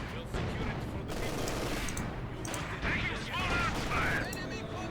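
Gunfire in the real-time strategy game Company of Heroes 2 rattles as repeated bursts and scattered shots against a dense battle din.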